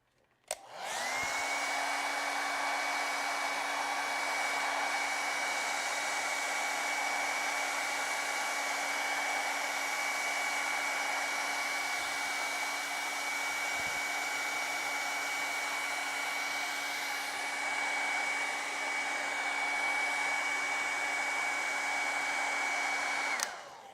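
A hair dryer blows steadily and loudly for over twenty seconds to dry acrylic paint on a penguin painting, starting abruptly and holding an even whine until it cuts off at the end.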